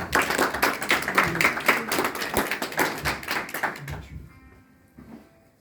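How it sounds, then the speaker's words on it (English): A room of people at the inauguration of the Congolese community of Ireland claps in a dense burst of applause that fades out over the last couple of seconds. "Can you give her a round of applause, please?"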